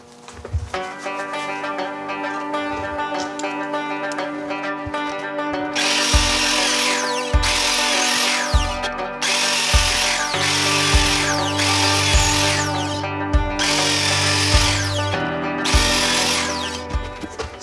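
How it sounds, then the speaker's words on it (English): Power drill boring out the old wooden handle stuck in a rusty hatchet head, with repeated loud bursts of high whining drilling separated by short pauses and clicks, close up with no talking. "So I'm hoping I can use my drill and drill it out as much as possible."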